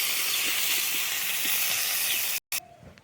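Potatoes fry in a pan for a drumstick flower bhaja, a steady, loud hiss of sizzling oil that cuts out abruptly near the end, leaving a quieter, fading crackle.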